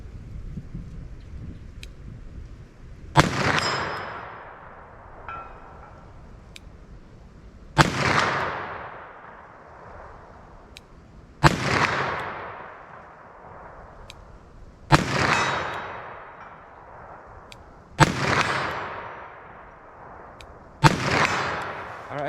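Five loud .357 Magnum revolver shots from a 4-inch barrel firing Remington HTP 110-grain ammunition, spaced several seconds apart outdoors, each a sharp crack followed by a long rolling echo that fades.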